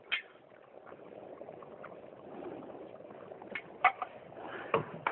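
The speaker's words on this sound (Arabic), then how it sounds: "وأسيبه يغلي على النار كده غلوة صغيرة" Potato soup with milk, cream and carrots simmers on a stovetop in a soft, steady bubbling, faint and close, with a few sharper pops near the end.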